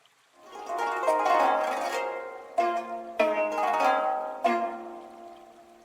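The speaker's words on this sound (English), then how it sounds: "Here is the sound of ancient Egyptian lyre." An ancient Egyptian lyre plays slow, ringing plucked notes and strummed chords that sustain and decay, with a few sharper plucks standing out, no voices.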